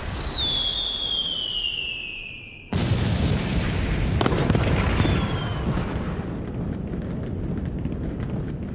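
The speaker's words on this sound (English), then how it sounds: "It's a stick, and I think it's a firework?" Animated fireworks whistle upward, then burst in a sharp bang followed by a second crack and a long, rumbling crackle that slowly fades.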